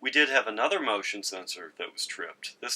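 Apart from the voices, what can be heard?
No distinct noise like a dog, phone or traffic.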